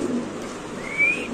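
Pigeons coo softly and steadily in a loft, their low murmur blending into a faint continuous background with one brief brighter call near the end.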